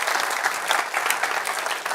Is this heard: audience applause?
yes